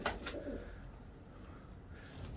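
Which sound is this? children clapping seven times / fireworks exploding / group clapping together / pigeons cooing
pigeons cooing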